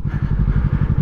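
Yamaha R7 sport motorcycle with the FC7 engine, a steady, low-pitched growl with a rapid regular pulsing beat, close and loud throughout the short burst.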